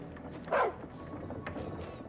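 A single short bark from a brown-and-white dog in the video game Final Fantasy XVI, fairly close and brief, set against a low ambient game background with no speech.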